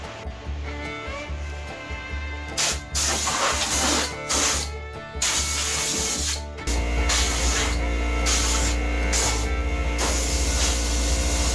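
Compressed air blowing dust out of the engine bay of a 1976 AMC Gremlin with a V8: bursts of loud hissing air, then a long continuous blast under a low steady compressor rumble, close with no talking.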